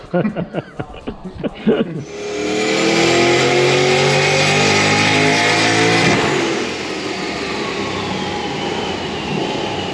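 Nissan R34 Skyline engine on a dyno during a power run with a 4-inch muffler, voices talking briefly before a loud sustained rising roar that holds steady and then eases off.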